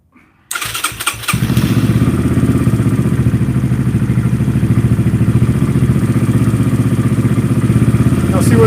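A Yamaha TTR125LE dirt bike, just fitted with a new clutch, cranks over with a few quick clattering turns and fires up. Its single-cylinder engine then runs at a steady, close, loud idle.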